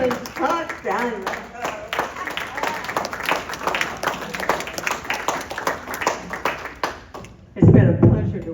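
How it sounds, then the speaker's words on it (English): Audience at an association annual meeting applauding a newly elected president, dense rhythmic clapping from many hands for several seconds, ending abruptly as a voice picks up again. "let's give a round of applause to our new president, Scott Daniels"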